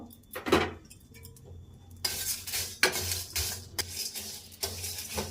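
Dry whole spices (coriander, cumin, fennel, star anise, peppercorns, cloves, cardamom, cinnamon, dried chillies) are roasted and stirred in a pan, with a spoon scraping and clinking against the metal in close, irregular bursts.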